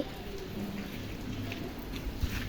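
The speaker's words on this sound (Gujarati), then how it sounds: "આજે વરસાદ છે તો બહાર કપડાં નથી સુકવ્યા." Rain falls steadily outside a house, an even, close patter and hiss with a few sharper drips and no talking.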